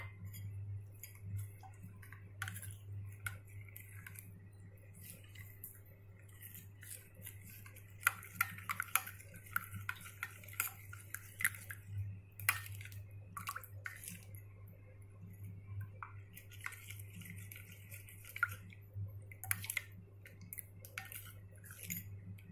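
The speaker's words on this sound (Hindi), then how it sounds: "अब इनको मिक्स करेंगे, अब ये जो पानी है हम इस पर ऐड करें।" Spice paste is stirred with water in a pot, with faint scattered clicks and soft scraping taps in an irregular rhythm over a steady low electrical hum.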